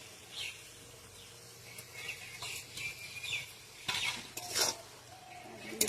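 A spoon faintly scrapes and clinks in a pan while fried fish is stirred into a simmering vegetable curry with ol (elephant foot yam) stems, in soft intermittent strokes.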